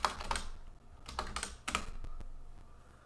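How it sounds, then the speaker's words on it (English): Someone types on a computer keyboard in short bursts of crisp clicking keystrokes, then a few lighter taps that trail off. The sound is close and fairly quiet, and no one speaks. "I can't type today."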